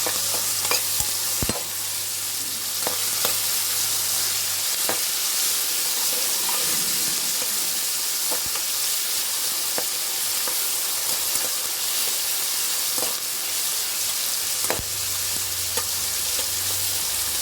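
Cashews and tomato curry fry in a pan with a loud, steady hiss and sizzle. Sharp scrapes and clinks from stirring come through now and then as the sizzle runs on without pause.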